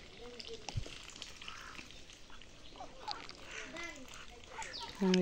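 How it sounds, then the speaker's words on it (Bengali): Native country ducks eating paddy quack in short nasal calls scattered over a busy background in Bikrampur, Bangladesh, with people talking nearby. "এই হাঁসগুলো তো একদম মনে করেন এই যে ধানের খাচ্ছে, একদম দেশি হাঁস"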